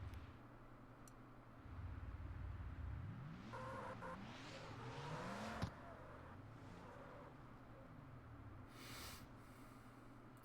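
A Porsche engine in the street racing game CarX Street, quiet and distant, rising and falling through revs with a brief tire squeal and a sharp knock midway, no talking.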